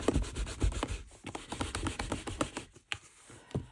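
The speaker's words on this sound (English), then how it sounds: "I'm just giving it a wee clean with my Stampin' Scrub" Rubber stamp scrubbed clean on a Stampin' Scrub pad: brisk, close rubbing strokes in quick uneven bursts, dry and scratchy, with no talking.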